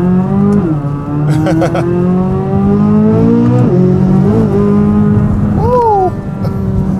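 A Chevrolet Corvette C8 Z06 with its stock exhaust idles with a loud, steady engine drone, rising in brief revs a couple of times; nearby sounds briefly overlap the engine.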